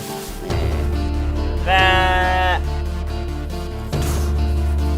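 A goat kid bleats once in a short, wavering cry, loud and close, over a steady bed of background music.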